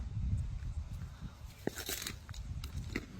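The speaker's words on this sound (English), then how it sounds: "this is gonna have to have a good crunch" Crunchy food bitten and chewed outdoors, a run of crisp, close crackling bites and chews over a few seconds, fairly quiet with a sharp snap partway through.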